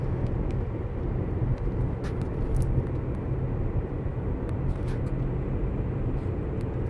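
Steady low road rumble and tyre noise inside a Tesla on Autopilot 1, cruising at 40 mph on a straight road, continuous and even throughout with no talk.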